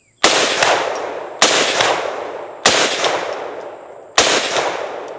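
Four loud rifle shots from an M14 clone fired standing at a 100-yard target, each a sharp crack with a long decaying echo, spaced about a second apart at an outdoor range.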